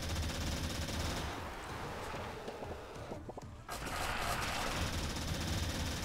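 Rapid automatic gunfire rattles continuously while a boss is shot in the video game Turnip Boy Robs a Bank, a dense, steady stream of shots with a brief pause just past the halfway point, fairly quiet in the mix.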